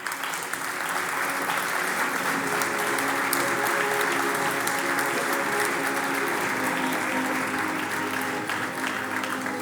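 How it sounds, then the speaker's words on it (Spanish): An audience at a wine cooperative's welcome event applauds steadily, a dense sustained wash of many hands clapping at an even loudness throughout, with no voices breaking through. "Un aplauso para él."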